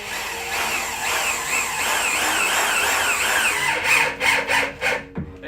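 A power drill drives four screws into the edge of a wooden PC build: a loud, steady whirring run, then several short stuttering bursts as each screw seats, ending in a brief squeal.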